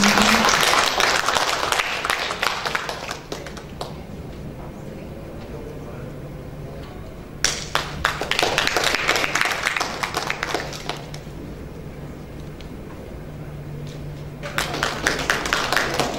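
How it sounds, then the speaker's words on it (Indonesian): An audience at an academic career development workshop applauds in several bursts of dense, crowded clapping, separated by quieter stretches with a low hum and faint talk. "Ya, mari beri tepuk tangan juga Bapak Ibu."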